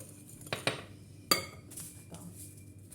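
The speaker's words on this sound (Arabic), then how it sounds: "وغادي نخلط مزيان حتى ينسجموا بعضياتهم" Lemon cake ingredients are mixed in a bowl with a utensil, giving a few faint, separate clinks and taps against the dish over quiet background, with a voice murmuring softly.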